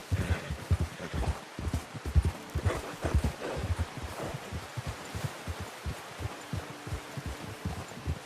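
Horse hooves clip-clop at a steady walking pace in the video game Red Dead Redemption 2, a continuous rhythmic series of soft thuds on dirt with faint ambient rustling.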